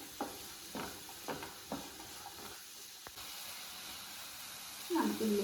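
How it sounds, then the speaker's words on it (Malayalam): Carrots and potatoes for vegetable kuruma are stirred in a pan with several close scraping strokes over a faint hiss, followed by a brief louder sizzle. "നന്നായിട്ടൊന്ന് ഇളക്കി കൊടുക്കാം."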